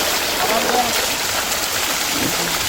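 A stream of flowing water in a village near Varanasi, a loud, continuous rushing hiss filling the whole clip, with a voice faintly underneath.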